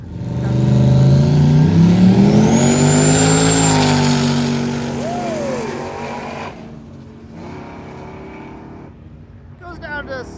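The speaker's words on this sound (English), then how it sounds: "hopefully we can see them out on the road, get another good burnout" A turbocharged S10 doing a burnout at Big Sky Race Week: a loud, close engine revs hard and climbs with a whistling turbo note, then the roar drops away to quieter, distant engine noise near the end.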